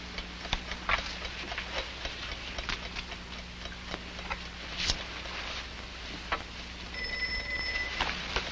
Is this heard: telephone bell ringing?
yes